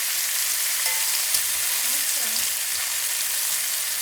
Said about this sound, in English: you have a nice sear